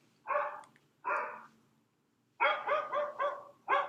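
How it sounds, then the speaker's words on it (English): A dog barks in a played animal sound recording: two separate barks, a pause, then a quick run of five barks, clear and fairly close with no talking. "A dog."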